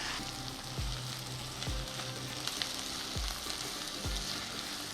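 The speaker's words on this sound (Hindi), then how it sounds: "प्याज की ब्राउनिंग शुरू हो गई है" Onions browning, sizzling and crackling steadily in a hot pan, with a few soft scraping stirs at regular intervals.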